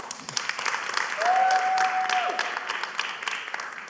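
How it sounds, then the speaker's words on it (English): An audience applauds steadily at a live tour event, a dense wash of clapping that holds for the whole stretch. A sustained tone sounds briefly partway through. "Can we please give her a round of applause as well?"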